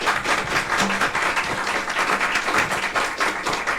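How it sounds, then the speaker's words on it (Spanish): Audience applause at a university research event, dense continuous clapping from a room full of people, steady and fairly loud throughout. "Un aplauso, por favor"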